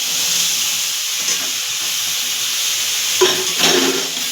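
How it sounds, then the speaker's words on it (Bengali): Boiled chickpeas go into frying masala in a pan over medium heat, giving a loud, steady sizzle and hiss with a couple of brief stirring scrapes near the end, and no voices. "তারপর আমি চারটে সিটি মেরে ছোলাগুলো আমি এই মশলা কষানোর মধ্যে দিয়ে দিলাম"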